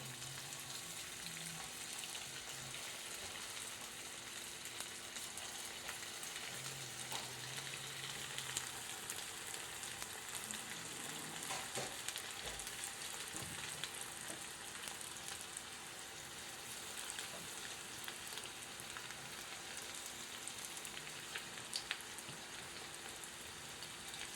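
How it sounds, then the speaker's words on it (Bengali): Marinated chicken pieces for chilli chicken fry one by one in oil on a lowered gas flame, giving a faint, continuous rain-like sizzle with little variation. "এবার দেখো আমি ভেজে নিচ্ছি একটা একটা করে"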